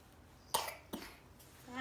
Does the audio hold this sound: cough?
yes